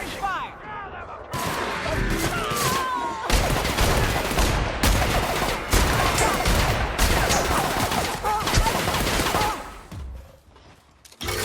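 Heavy gunfire in The Outer Worlds crackles in dense, sustained volleys, loud and close, with overlapping shots and clattering mechanisms; a voice speaks briefly amid the shooting, and the noise drops away near the end.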